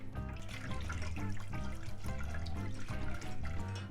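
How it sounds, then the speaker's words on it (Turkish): Milk is poured into toasted flour in a pan for crepe batter, giving a continuous close liquid gush and trickle that stays steady throughout with no speech. "Şimdi sıvıları ekliyorum. Yani sütümü ekliyorum."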